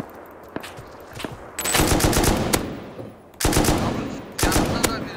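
Automatic gunfire in the survival game Rust, with rapid bursts of loud close shots in two long volleys separated by single scattered shots and quieter pauses.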